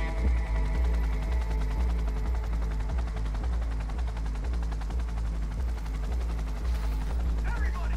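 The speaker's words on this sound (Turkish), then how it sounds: "Helikopterin inmesini bekliyor da inmiyor ki helikopter." A helicopter in the video game Cyberpunk 2077 thrums with a steady low rotor pulse throughout, layered with dense game effects and music, while someone talks over it.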